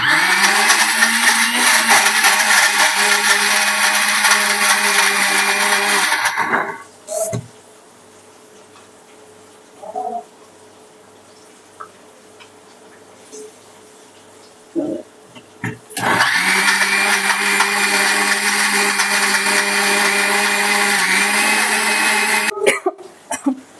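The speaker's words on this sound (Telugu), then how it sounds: "తీసుకుని మిక్సీ వేద్దాం" A mixer grinder loudly whirs grinding tamarind masala for fish curry, running in two long bursts with a quiet gap between, where a few clicks and a cough are heard.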